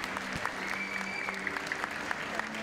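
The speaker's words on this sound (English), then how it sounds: "Give a big round of applause." Applause for a climber at the end of a timed bouldering final at a climbing festival, steady crowd clapping with a faint hum in the background.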